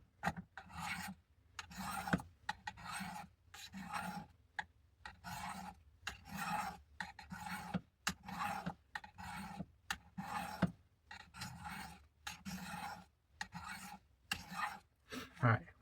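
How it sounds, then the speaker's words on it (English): Steady rhythmic strokes of a WW2 vintage M3 knife edge scraping along sharpening stones, close and fairly quiet, repeating back and forth with brief gaps for about sixteen seconds. "I can feel the difference in how the edge is gliding along these stones"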